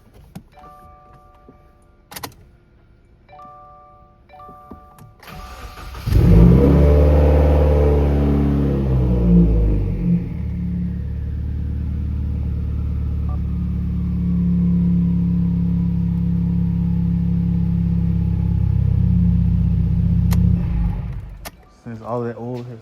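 A car engine cranks and catches after a fresh oil change, then settles into a steady, loud idle for about fifteen seconds before being switched off, with faint clicks and key sounds before the start.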